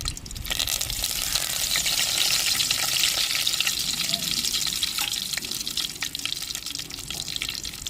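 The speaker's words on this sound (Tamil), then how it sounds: "எண்ணெய் சூடாயிருச்சுங்க, வெந்தயம் போட்டுக்கிறோம். தேவையான கருவேப்பிலை போட்டுக்கிறோம்." Fenugreek seeds and curry leaves crackle and sizzle in hot oil for a Tamil fish curry, a loud, dense frying hiss with sharp pops, close up and continuous.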